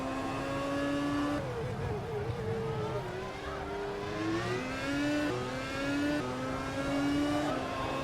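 A race car engine drones through a lap during CRC 2015 practice in the United States, loud and steady, its pitch climbing and dropping through repeated gear changes with constant engine harmonics.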